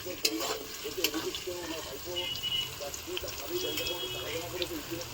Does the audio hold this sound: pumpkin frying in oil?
yes